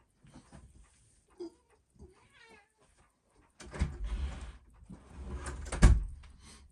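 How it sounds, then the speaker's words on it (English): A cat shooed out of a room, with faint meows and rustling early on, then louder scuffling, a door sliding or closing, and a sharp thump near the end. "Just evicting a cat"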